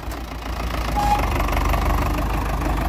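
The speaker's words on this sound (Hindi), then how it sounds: "ये ट्रैक्टर है वो जो पहले नंबर पे सबसे पहले चढ़ गया" A tractor engine runs steadily at a rural hill-climbing contest after its climb, a loud, close, rumbling idle with a continuous low chug and no speech.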